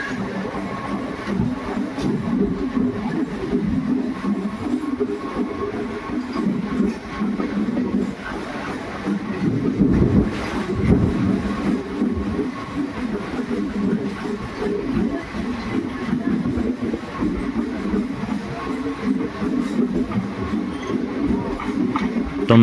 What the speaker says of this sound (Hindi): तो पीछे गुड्स ट्रेन थी जो यहाँ से निकल रही है।